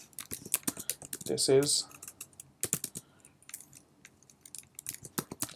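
Rapid keystrokes on a computer keyboard while entering a to-do item in a React app, a steady run of close, crisp clicks with a short voice over them and a burst of typing in the middle.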